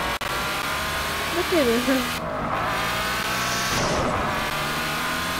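Race cars in a video game race, a steady engine drone with brief tire squeals running under excited talk throughout.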